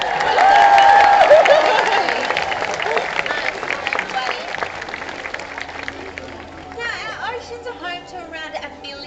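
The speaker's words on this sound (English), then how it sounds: "I want you guys to give him a really big cheer this afternoon" At Taronga Zoo in Sydney, a crowd watching a seal show bursts into loud applause and cheers, with a whistle early on, then fades into scattered clapping and chatter, with voices audible.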